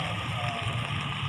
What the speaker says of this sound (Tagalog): May ulan po.